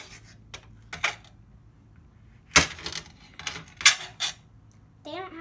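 Scissors snipping through red paper or fabric pieces, a few separate sharp cuts and clicks spaced irregularly, close and fairly crisp, with a brief voice-like sound at the very end.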